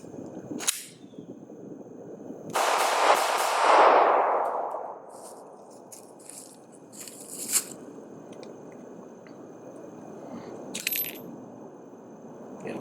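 A live pistol round drops out of a Glock handgun and lands with a brief metallic clink, followed by a few faint rattles and light clicks of handling in a quiet room.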